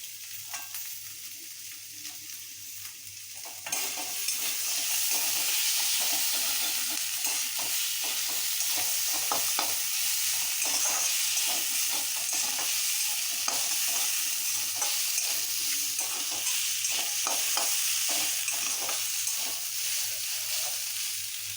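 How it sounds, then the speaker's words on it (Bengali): Cashew nuts hit hot oil in a pan and the frying swells into a louder, constant sizzle after a few seconds, with occasional stirring scrapes. "এর মধ্যে এবার আমি দিয়ে দেবো এই কাজু বাদামগুলো, যাতে কাজু বাদামটাও একটু ফ্রাই হয়ে যায়।"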